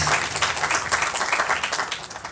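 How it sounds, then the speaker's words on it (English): Audience at a colloquium talk on pursuing dreams breaks into applause after a speaker's remark, a dense, steady wash of many hands clapping at moderate level throughout, with no voices over it. "the applause itself says that it was something nice that you said"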